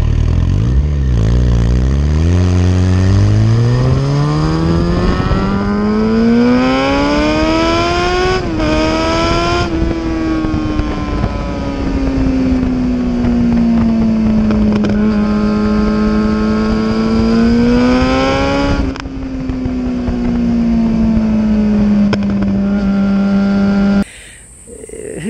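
A Yamaha FZ1 motorcycle engine revs up steadily while riding, pitch climbing then holding at a high sustained drone, with brief gear-shift dips along the way, nearly continuous for the whole stretch.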